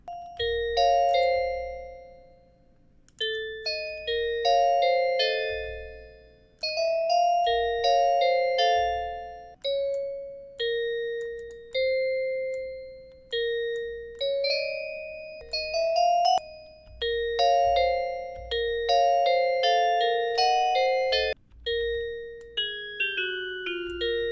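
A bell preset in FL Studio's stock GMS synth, reverb and echo switched off, plays a bright melodic line of struck tones, loud and close, with repeated rhythmic phrases and a low bass pulse under it, no voices.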